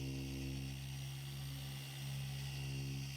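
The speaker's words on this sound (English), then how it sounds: "On flat surfaces such as the hood, you can just rest it on the surface as you work the polish" Machine polisher working polish across the flat hood of a car, a steady loud motor whine and hum that runs continuously with only a brief dip in the middle, no voices.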